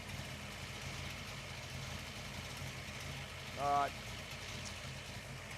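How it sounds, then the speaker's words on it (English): Ford Falcon engine idling at traffic lights, a low steady rumble heard from inside the car with a faint continuous hum, and a brief spoken interjection partway through. "I appreciate listening to this thing idle."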